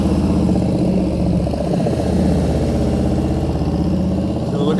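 A motorcycle engine drones loud and close during slow riding practice around cones, its rumbling, pulsing note holding steady with small rises and dips in revs.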